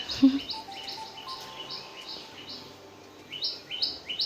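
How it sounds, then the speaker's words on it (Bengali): A small bird repeats a quick, high chirping call in short bursts, a pause, then resumes; faint low buzzing and distant ambience underneath. "আর একটা পাখি কখন থেকে ডাকছে"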